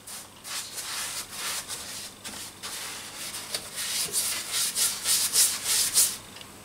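Sealer being brushed or rubbed onto the wood of a scratch-built Gauntlet arcade cabinet, heard as steady close scraping and rubbing strokes in a repeating rhythm, growing a little louder toward the end, with no talk.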